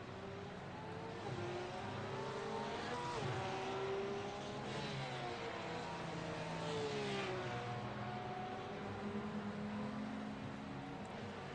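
A Porsche GT3 race car running down through the corkscrew at the WeatherTech circuit, its engine whining and shifting pitch as it brakes and accelerates, fairly faint and steady throughout.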